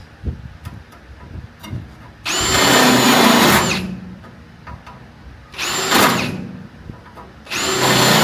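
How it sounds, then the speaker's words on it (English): A power drill whines loudly in three bursts, drilling out spot welds in a classic car's metal floor, with quiet taps and handling noises between them. "Drill it."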